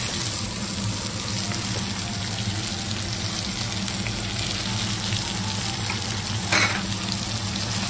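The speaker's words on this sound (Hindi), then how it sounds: "अभी ये प्याज को मैं बहुत अच्छा से फ्राई कर रही हूँ." Chopped onions sizzle steadily in hot oil in a pan for a spiced potato dish, a dense continuous frying hiss with a brief stir near the end.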